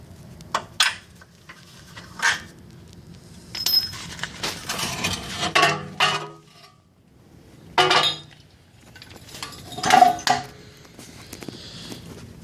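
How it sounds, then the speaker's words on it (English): Bolts are loosened during transmission removal on a 1999–2003 Acura TL, heard as scattered metallic clinks and tool clatter in short bursts, close by, with quiet pauses between. "I'm gonna unbolt it. These 3 bolts"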